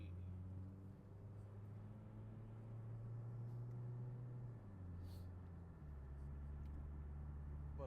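Steady low engine rumble of passing road traffic, cars and heavier vehicles droning continuously with a shift in tone midway, loud and close throughout.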